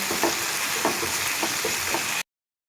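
Ground spice masala being fried down with small splashes of water for a raw-mango pickle-style brinjal dish, a constant close sizzle with soft rhythmic stirring scrapes, then a sudden cutoff to silence.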